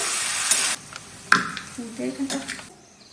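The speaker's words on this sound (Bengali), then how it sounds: "এবার আমি একটু মশলাটা কষে নিয়ে" Masala stir-fried for a meat curry sizzles loudly in a pan, with a bright hiss at the start, a spoon scraping and stirring, and a voice speaking briefly over the cooking.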